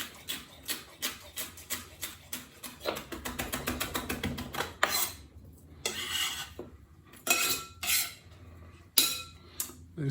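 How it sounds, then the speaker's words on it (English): Chilies being sliced lengthways and then across with a knife on a chopping board, a run of quick, close, sharp taps that speeds into a dense rhythm and then breaks into slower, heavier chops, with no voices. "So I'm gonna chop them, shred them lengthways"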